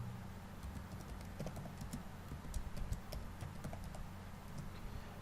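Typing on a computer keyboard to enter a search, a quiet run of close, light key clicks tapping in an uneven rhythm against a soft room hum.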